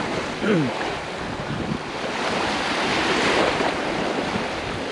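Sea waves wash over the Palad sandbar in Marinduque, meeting from two sides, a broad continuous surf roar mixed with wind buffeting the microphone and a brief voice early on.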